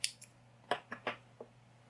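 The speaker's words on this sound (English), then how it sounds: "you can cut off your yarn" Several quick, crisp snips of scissors cutting off crochet yarn, spaced irregularly and close by in an otherwise quiet room with a low electrical hum.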